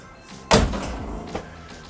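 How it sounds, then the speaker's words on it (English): A car door on a 1971 Chevrolet Camaro shuts once with a single solid, close thunk, a faint secondary knock following a moment later in a quiet garage. "I wasn't closing my door right."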